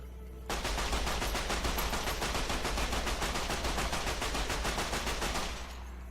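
Automatic gunfire in Fallout: New Vegas: a long, loud, steady burst of rapid evenly spaced shots that runs for about five seconds before cutting off, with no voices.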